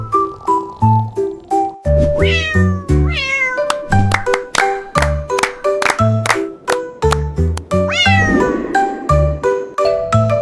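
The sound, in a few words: cat meowing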